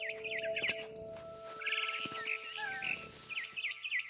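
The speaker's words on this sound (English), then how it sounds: "Then I heard chirping outside my window. It was a barn swallow going back to her nest." A barn swallow in the video game What Remains of Edith Finch chirps in a quick run of bright, close twittering calls, repeated in short bursts over a steady low hum.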